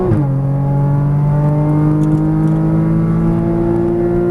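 A Porsche Cayman GTS engine on a racetrack, loud and close, drops in pitch at an upshift near the start, then holds a steady climbing drone as it pulls through the next gear, with no talking.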